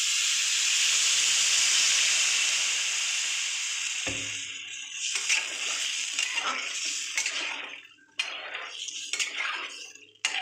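Water poured into a hot pan with salt for a Bengali shukto sends up a strong steady hiss that fades after a few seconds, giving way to clinks and scrapes of a metal utensil against the pan.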